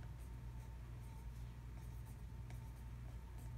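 Marker or pen writing a lesson objective on a board at the top of a place value lesson, quiet scratchy strokes in short repeated bursts over a low steady hum.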